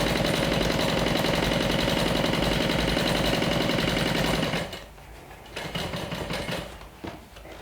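A sewing machine stitches steadily at close range through the bulky seam of a bag's exterior, a loud, fast, even mechanical chatter for about four and a half seconds before stopping, followed by quieter handling noises and a brief restart.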